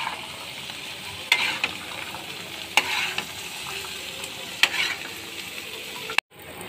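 Meat kebabs frying in a pan for an iftar spread, a steady close sizzle with occasional sharp ticks and pops, no talking, cutting off abruptly at the end.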